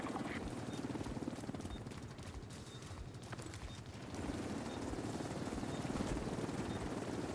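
A helicopter arrives for extraction in The Division video game, its rotor beating in a steady rapid chop that grows slightly louder and nearer over a dense, noisy background.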